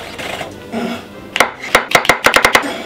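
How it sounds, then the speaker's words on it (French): A kitchen knife minces mushrooms on a cutting board: after a quiet start, a quick run of about eight sharp, close chopping knocks comes in an uneven rhythm, with no talking. "Champignons, coupe 2 et on émince."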